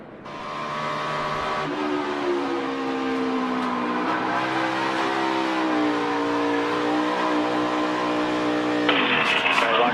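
NASCAR race car engine held at full throttle during a wild save near 160 mph, a loud sustained high-revving roar with shifting pitch and a sharp burst of tire or crowd noise at the end.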